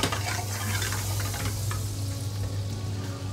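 A knob of butter sizzles and fries in a hot pan with vegetable oil, a loud continuous crackling hiss with a low steady hum beneath, close and alone without talk.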